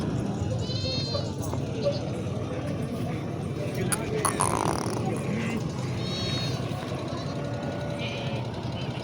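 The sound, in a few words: goats bleating at an animal market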